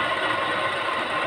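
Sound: washing machine running

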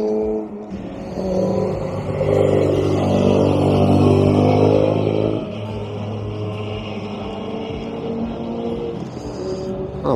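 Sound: classic cars driving past

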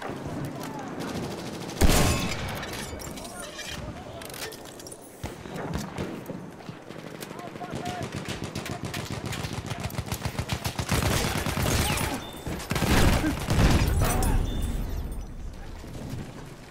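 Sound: gunfire in the video game Battlefield 1

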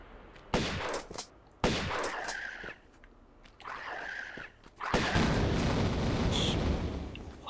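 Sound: shotgun gunfire in the Tomb Raider video game

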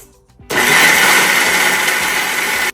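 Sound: mixer grinder grinding horse gram masala into fine paste

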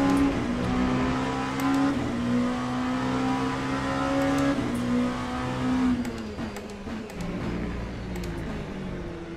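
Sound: Ferrari race car engine in Le Mans Ultimate video game

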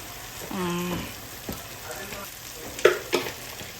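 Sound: stirring and frying masala in a pan

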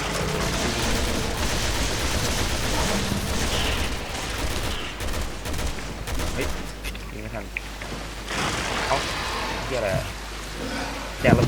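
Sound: gunfire in video game Resident Evil 6

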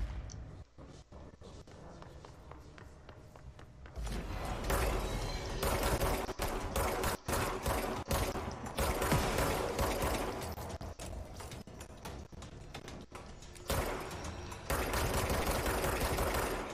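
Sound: weapon firing in the video game Control

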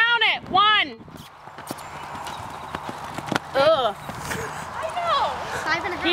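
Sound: horse hooves during a riding lesson

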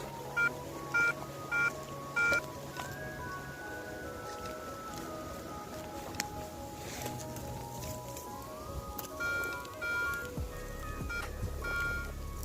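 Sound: metal detector tone

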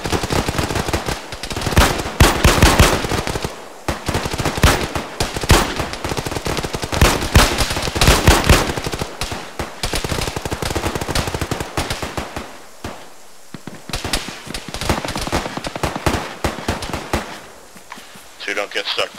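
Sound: gunfire in a military video game

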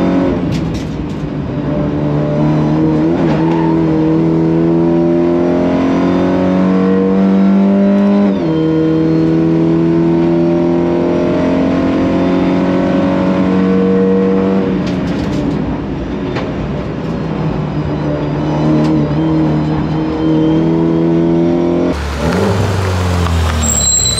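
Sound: race car driving and revving on a track

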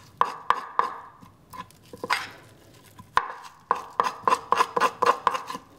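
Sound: metal spoon scraping salmon skin for tanning

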